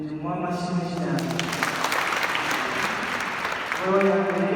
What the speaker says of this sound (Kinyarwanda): tumuha amashyi menshi cyane.